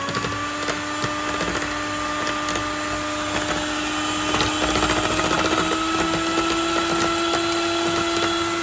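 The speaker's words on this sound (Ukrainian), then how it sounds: "беру наш ручний міксер та на другій швидкості починаю збивати меренку" Hand mixer on second speed whipping French meringue made with albumin for macarons, a steady high motor whine with continuous whirring and faint beater rattle, constant and close with no talk.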